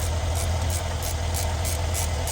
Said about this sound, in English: the car is running right now